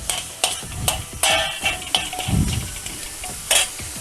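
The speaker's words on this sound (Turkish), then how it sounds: "Güzelce karıştırıyoruz." Tomato sauce and oil being stirred in a pan on the stove while preparing Mersin tantuni, with a steady sizzle broken by repeated close scraping and sloshing strokes.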